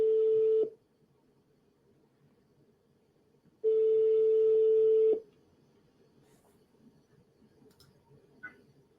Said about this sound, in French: On va essayer de rappeler Yannick.